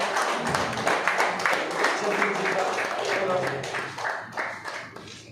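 Audience at a party joining event welcoming a new professional member breaks into dense, sustained applause, a crowded wash of many hands clapping steadily throughout with faint voices underneath.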